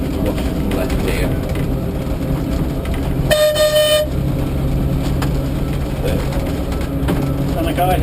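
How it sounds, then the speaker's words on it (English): A Manx Electric tram on the Douglas to Laxey line gives a short, bright whistle blast of about a second over the steady rumble and mechanical rattle of the moving car, with talk heard around it. "he would have heard the bell and the whistle"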